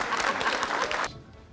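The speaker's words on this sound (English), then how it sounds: "Round of applause." A crowd applauds briefly in a dense wash of clapping for about a second, then it quickly dies away.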